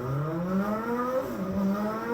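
Formula car sound effect played through an LG CK99 speaker in party mode 3, a sustained rising and falling engine whine with shifting pitch, steady and fairly loud throughout with no separate crash evident.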